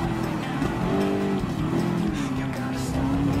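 Ford GT LM Spec 2 test car in Gran Turismo Sport, its engine holding a steady droning note with a faint shift in pitch, continuous and fairly loud, with a voice talking faintly underneath.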